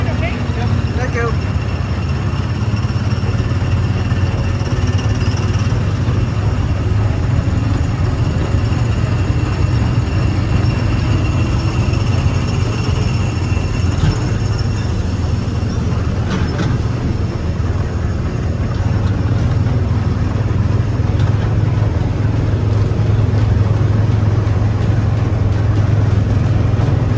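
A Tomorrowland Speedway ride car at Disneyland at night gives a steady, loud engine drone that runs unbroken from start to finish, with faint background voices.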